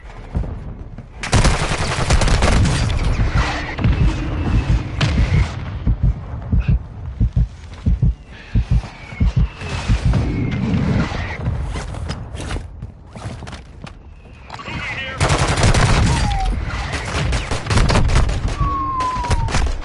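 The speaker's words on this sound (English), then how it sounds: "Hostile mortar strike incoming." Dense gunfire and heavy explosive thuds from a mortar strike in the battle royale video game Warzone 2.0, loud bursts of rapid automatic fire broken by short pauses, with booming low impacts throughout.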